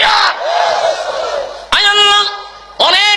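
A large crowd at a Bangla religious sermon gathering roars a loud collective response to the call Nara-e-Takbir, a few bursts of shouting with chuckles mixed in.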